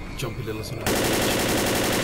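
A brand-new gun just picked up in Left 4 Dead fires a loud, rapid automatic burst of evenly spaced shots that carries on steadily after a moment of quieter game sound with a voice.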